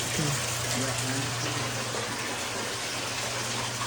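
Water running out of a fixture in a new house, a continuous broadband rushing flow, steady and fairly loud, with a low constant hum beneath and brief voice-like sounds at the start.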